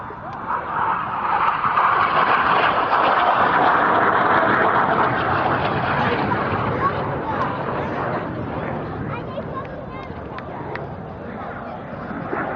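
Red Arrows jets roaring through a formation flying display at an air show, a broad sustained engine rush swelling and easing, with a commentator talking over it throughout.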